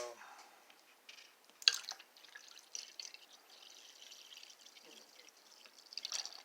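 Juice poured into a jar for homemade non-dairy kefir, a faint trickling and dripping stream with a few sharper splashes, soft and close.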